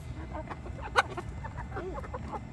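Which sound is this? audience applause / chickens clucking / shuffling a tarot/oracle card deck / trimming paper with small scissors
chickens clucking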